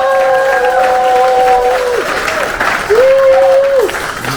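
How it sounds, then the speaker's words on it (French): Audience applause for a couple celebrating their silver wedding anniversary: steady, dense clapping through the whole stretch, with a few sustained tonal sounds rising above it. "Can we clap?"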